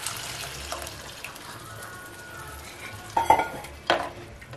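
Tomato, mango pieces and masala sautéing in a clay pot, a soft steady sizzle with a few louder scraping stirs near the end, close by and without talk.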